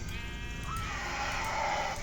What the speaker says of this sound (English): There's a sheep in here.